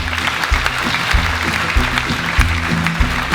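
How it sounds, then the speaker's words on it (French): Applause for local sponsors at a French theatre season presentation, dense steady clapping with a low rumble of crowd noise underneath, continuing evenly for several seconds. "Vous pouvez les applaudir."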